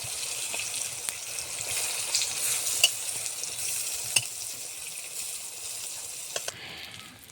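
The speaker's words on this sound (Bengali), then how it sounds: "আস্তে আস্তে জাল দিব, আস্তে আস্তে উল্টে দিব, সুন্দরভাবে ভাজা হয়ে যাবে।" Slices of eggplant sizzle steadily in hot oil, a continuous bright frying hiss with occasional soft pops and clicks.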